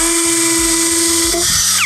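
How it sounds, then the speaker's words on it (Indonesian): A XENON CDID1845 18V cordless impact drill bores into an aerated concrete block, a loud, steady high-pitched motor whine held close up throughout with no talking. "Pengeboran temboknya ya, kita coba impact drillnya."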